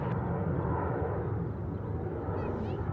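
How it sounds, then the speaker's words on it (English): A Jetstar Airbus A320 takes off from Sydney Airport, its engines making a broad, continuous, moderately distant roar that stays steady throughout, with faint voices in the background. "Departing off runway right now is a Jetstar A320 getting sporty"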